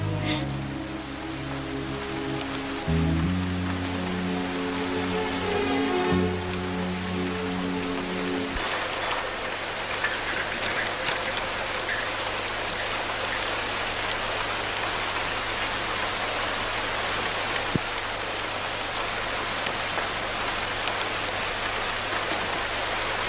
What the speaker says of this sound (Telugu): పైగా వర్షం.